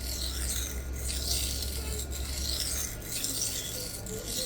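A knife blade is being sharpened on a Sharpal 325 grit diamond plate, giving a close, steady raspy scraping in repeated strokes with no talking.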